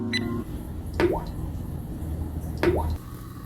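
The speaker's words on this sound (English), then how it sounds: "Once that's loose, you'll see it's dripping" Power steering fluid drips from a loosened fitting on a Ford power steering cylinder during a rebuild, two distinct drip-like plops about 1.6 seconds apart over a low background hum.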